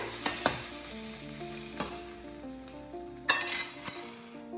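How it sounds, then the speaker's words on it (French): Small onions and garlic browning in the juices left from seared veal for a tajine, a bright sizzle under several clinking stirs and scrapes of a utensil against the pan, close by with no voices. "nous allons faire revenir tous nos petits oignons avec l'ail"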